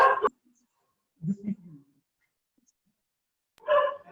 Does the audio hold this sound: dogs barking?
yes